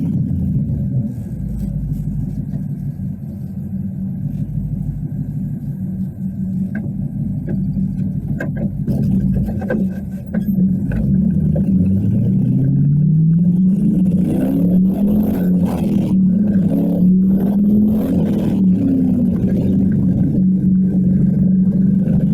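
Replica Cobra sports car engine idling with a steady low rumble, then revving and pulling away, rising in pitch through the gears, close and loud throughout.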